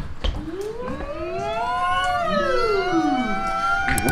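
Voices imitate a fire truck siren, loud and close, with several overlapping wails rising and falling in long sweeping glides.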